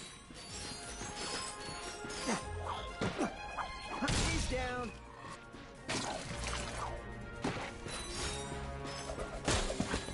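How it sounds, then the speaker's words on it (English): Crates being smashed in the Ratchet and Clank video game, a run of sharp wooden crashes and thuds with scattered debris clatter, mixed with game sounds and some talk. "Look at him smashing crates."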